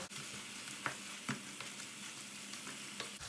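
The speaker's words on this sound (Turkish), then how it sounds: "Domates salçasını da iyice bir kavuracağız." Tomato paste sizzles steadily in a hot pan, a soft continuous crackle broken by a few light scraping stir clicks, with no voices.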